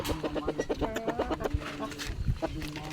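Chickens on a small farm cluck in quick repeated pulses, close and clear, while people talk over them.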